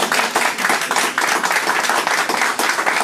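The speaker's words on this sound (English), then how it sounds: "I'd like to welcome her with another big applause to make her feel comfortable." An audience applauds to welcome a Deputy Mayoress at a building launch, a continuous wash of many hands clapping, fairly loud and close, with no talking over it.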